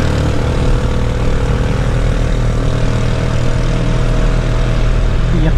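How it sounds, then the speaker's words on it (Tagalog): A noisy tricycle engine running steadily, a loud, continuous low-pitched rattling drone that stays close and even throughout. "umiiyak na yung tricycle, ang ingay"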